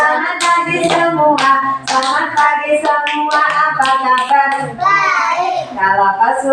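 Children sing a cheerful song in a school morning session, with rhythmic hand claps tapping along steadily beneath the continuous singing voices.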